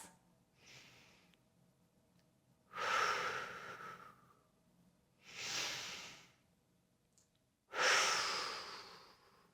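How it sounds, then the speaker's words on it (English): Slow, deep breaths taken while holding a cobra pose in a beginner strength yoga session: three loud, drawn-out exhalations, close and unhurried, with softer inhales between and no talking. "Hold here, 2 deep breaths."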